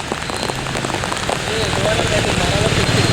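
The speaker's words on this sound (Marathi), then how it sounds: "हा बघा धुवाधार पाऊस काय असतो ना तो शब्दशः आज समजतोय" Torrential, continuous heavy rain pours down in Mumbai, a dense unbroken hiss that fills the scene and swells louder partway through, with a voice speaking over it.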